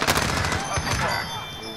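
A single gunshot from a trick shot attempt in a video game, loud and near, followed by a short decaying tail with faint game ambience underneath.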